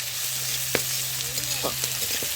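Sliced onions sizzle steadily in a pan for a new home-style recipe, with a few soft scraping clicks of a spatula stirring them through the hiss; close and fairly quiet, no talking.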